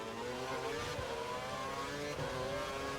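A Ferrari Formula 1 engine racing at Spa in an F1 video game screams at high, steady revs, loud and close, with slight shifts in pitch and no voices.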